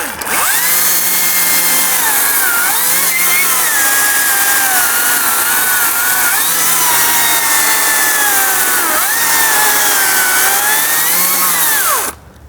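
A Makita cordless chainsaw cuts through wood, a loud continuous high-pitched whine with slight dips in pitch as the chain bites, running steadily for about twelve seconds before stopping abruptly.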